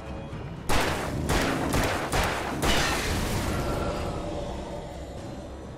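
Pistol fire from the video game Alan Wake: a burst of several sharp shots in quick succession near the start, each cracking loudly and trailing into a long echoing tail with no speech over it.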